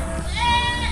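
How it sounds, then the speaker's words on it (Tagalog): A goat gives a single loud, close bleat, a wavering drawn-out cry against outdoor farm background noise. "Ayun, daming kambing oh."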